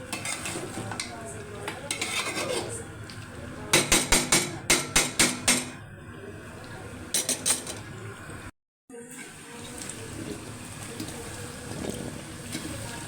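Chicken and potatoes being stirred in a metal cooking pot, with a burst of sharp clattering scrapes in the middle, then steady stirring and a faint sizzle close by.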